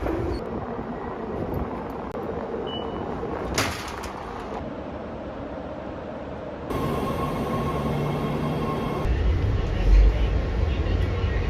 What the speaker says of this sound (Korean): 찾았다. 지하철.